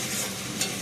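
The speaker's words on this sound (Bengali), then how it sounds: "অল্প অল্প করে জল দেবো আর মশলাটা কষাবো।" Masala with Kashmiri chili powder sizzles and hisses as it is stir-fried with splashes of water for a mutton curry, a brief, steady close-up frying sound with no voices.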